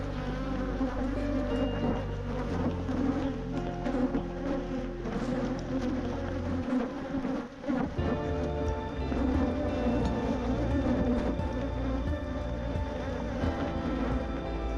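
Honey bees buzz around an open hive during a spring beehive inspection, a dense continuous drone of many insects close to the microphone, with occasional rustling and handling noises and gusts of wind.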